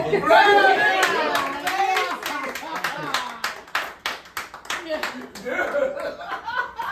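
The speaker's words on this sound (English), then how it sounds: "Clap it up." Applause breaks out from an audience, dense clapping mixed with laughter and cheering voices, loud at first and then thinning into scattered claps.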